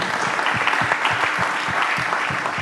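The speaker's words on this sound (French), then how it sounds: "Et on peut l'applaudir." Audience applause at a closing corporate event evening in France, a dense steady clapping from a sizable crowd, continuous and fairly loud, with no talk over it.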